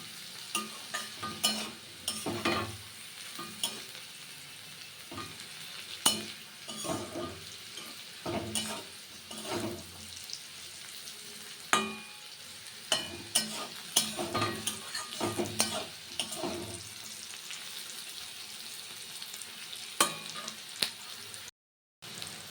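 Potatoes and onion stalks fry in a pan with a steady sizzle, while a utensil stirs and scrapes in irregular knocks throughout.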